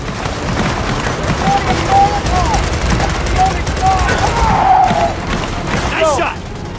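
Rapid gunfire from the Gears of War 4 campaign rattles loudly and continuously in overlapping bursts, with shouted voices mixed into the battle.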